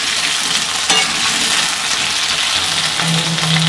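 Close by, sliced potatoes crackle in a pan of hot oil with a steady, loud hiss and occasional stirring clatter.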